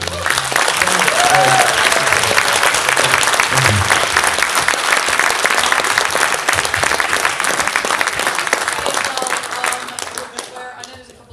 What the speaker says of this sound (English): give a big round of applause to these guys